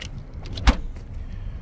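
The rear hatch of a 2025 VW Taos SE is shut by hand with a single solid thump in the middle. Quiet ambient noise surrounds it and no one speaks.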